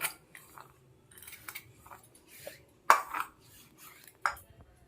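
A pot lid lifts off with a sharp metallic clink, followed by a second lighter clank, during home cooking of an ash gourd (chal kumro) dish; light kitchen clatter fills the pauses.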